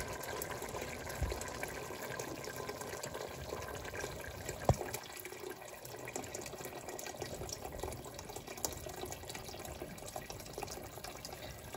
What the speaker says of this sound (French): On verse l'eau.